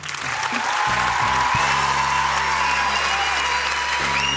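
A studio audience on a Turkish TV talent show bursts into sustained applause, loud and dense, with crowd noise holding steady for several seconds.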